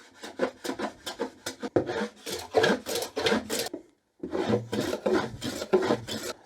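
Hand chamfering the wooden edge of a 1970s dining chair seat at about 45 degrees: repeated rasping strokes in quick rhythmic bursts, close and distinct, with a short pause partway before the scraping strokes resume.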